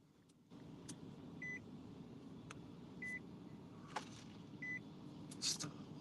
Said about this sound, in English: What's beeping in there?